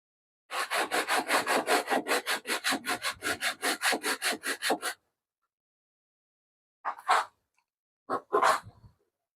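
A hand saw cuts through a piece of wood for a joint in about twenty quick, even back-and-forth strokes, close and loud, followed by a pause and a few short scraping rubs.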